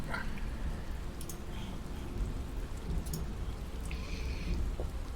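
Steady rain pours down over a bridge in a fantasy tabletop story scene, a continuous dense hiss with low rumbling underneath suggesting distant thunder throughout.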